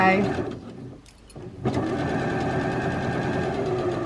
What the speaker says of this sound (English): you're going to finish stitching right on the point there with another little back tack